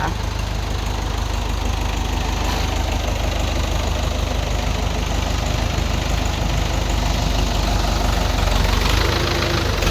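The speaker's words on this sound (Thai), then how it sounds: "เครื่องก็สตาร์ทติดง่ายนะคะ" Ford 6610 farm tractor with dozer blade idling nearby, a loud, steady low diesel rumble with an even knocking pulse that runs unbroken throughout.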